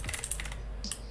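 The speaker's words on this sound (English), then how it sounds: "I got the extra clicky mechanical keyboard." Fast, crisp clicks from an extra-clicky mechanical keyboard being typed on close to the mic, a steady run of sharp keystrokes with no talking.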